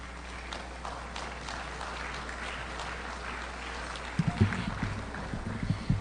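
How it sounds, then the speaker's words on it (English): Audience applause at a general membership meeting, welcoming new members; a steady, moderately faint wash of clapping throughout, with a few louder nearby claps and a low voice breaking in toward the end. "So let's give them one more round of applause."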